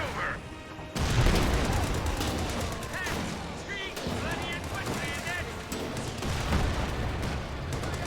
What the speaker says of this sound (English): Did the Comet just throw a pair of frags?